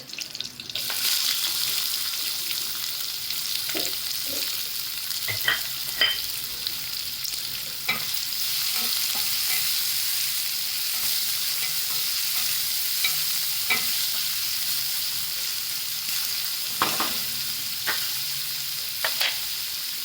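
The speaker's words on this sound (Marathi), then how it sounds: "कांदा टाकायचा" Onion fries in oil in a kadai while a spoon stirs it, a steady sizzling hiss broken by repeated scraping knocks at irregular intervals, close and sustained with no talking.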